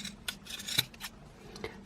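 Scissors snip at a crocheted yarn pom-pom on a mini Santa hat, giving a few quiet, close, crisp cuts spaced apart, the sharpest near the middle, with no talking.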